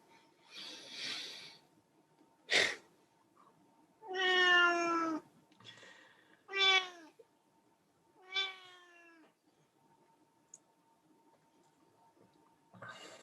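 Several cats meow in separate calls, some drawn-out and wavering, with quiet gaps between them in an otherwise still room; the sound is close but soft.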